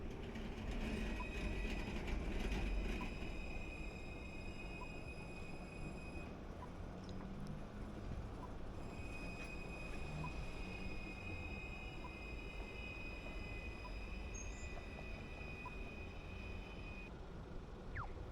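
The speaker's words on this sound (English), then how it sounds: "As we watch and admire the tram going past." A tram rolls past steadily with a continuous low rumble and high tonal whine, sustained throughout at moderate loudness, no talking.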